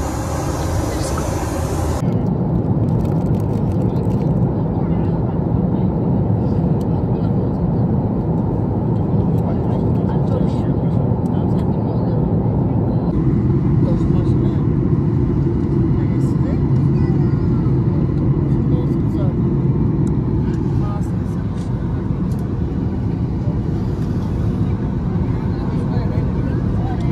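Airplane cabin during landing, with a loud constant low rumble of engines and rolling that shifts in level partway through, heard from inside the aircraft.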